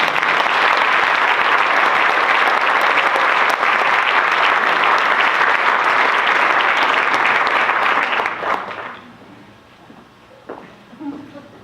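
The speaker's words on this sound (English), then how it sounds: "So let's clap for him." An audience at a storytelling awards event breaks into loud, dense applause for an award recipient, holding steady for about eight seconds before fading quickly to a quiet room with faint stray sounds.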